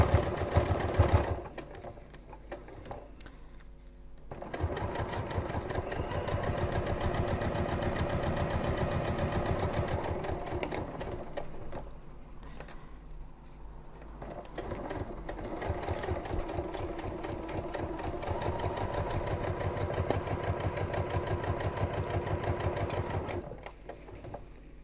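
A sewing machine stitches around the last corner of a fabric medication bag organizer, running as a steady, close mechanical whir with one brief pause before the motor picks up again.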